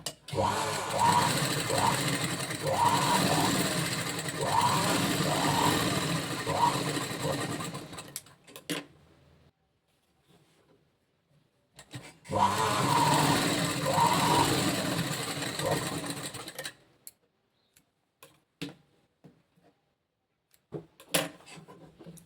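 A sewing machine runs an upper stitch along the lining edge of a blouse, two long steady bursts of fast rhythmic stitching with a short quiet gap and a few faint clicks after.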